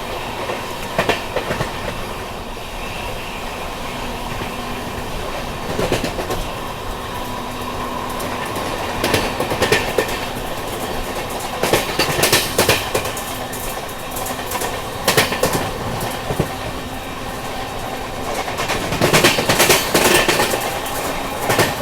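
Riding aboard the ShivGanga Express between Varanasi and Delhi while another train passes alongside: a steady rumbling roll with repeated clickety-clack bursts of wheels over rail joints and occasional louder rushes, continuous and close, without speech.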